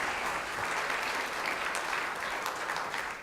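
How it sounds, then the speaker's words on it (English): Steady, dense applause from a live audience at a talk by an author, loud and continuous across the whole stretch with no voices on top. "Let's give Quint a round of applause."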